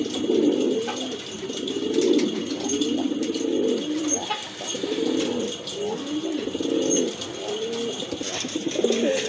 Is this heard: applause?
no